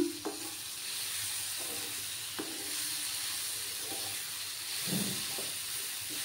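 Green chillies frying in a Bengali vegetarian soybean curry give a steady sizzle and hiss of oil and steam, broken by a few light stirring knocks against the pan.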